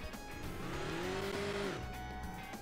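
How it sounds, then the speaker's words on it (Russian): A racing truck engine drones steadily in the Hill Climb Racing 2 video game, with a rising and falling engine tone over continuous noise and no talk. "это гоночный грузовик даже"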